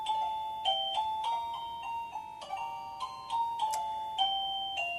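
A Roybens musical doorbell chime plays a bright electronic melody of clear ringing tones, one note after another in a steady tune, close and fairly loud in a quiet room.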